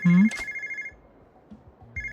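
A payphone rings in the video game Yakuza 0: a bright electronic trill sounds at the start, pauses for over a second, then starts again near the end, with faint low game ambience between.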